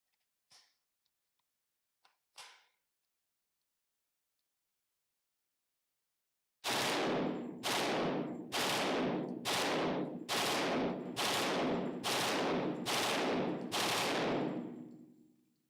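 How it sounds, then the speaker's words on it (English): A select-fire UMP submachine gun fires full-auto at an outdoor range. After a few faint clicks, about nine loud, closely spaced bursts ring out one after another, each a rapid rattle of shots. "you knew I wouldn't be able to call it a day without doing a little full auto shooting"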